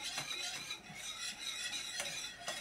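Eclair custard mixture stirred in a pot on the stove, faint repeated scraping and clinking of a utensil against the pan at an irregular rhythm, quiet and close.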